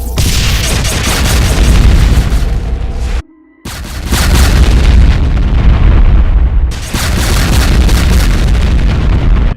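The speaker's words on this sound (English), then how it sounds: "BFG 10K shots" Repeated heavy energy blasts from a Cyberdemon firing BFG 10K shots in a Doom mod, loud booming bursts in long dense rolls with one brief gap.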